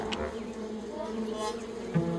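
Bees buzzing around hives, a continuous droning hum with overlapping tones that holds steady for a couple of seconds.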